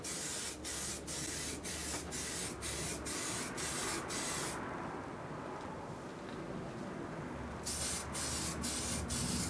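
Spray can laying a clear coat onto a car part, a steady loud hiss in repeated bursts with brief pauses between passes, close to the nozzle, no talking.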